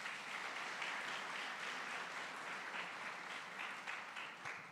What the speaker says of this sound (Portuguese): Você pode louvar o Senhor com as suas palmas.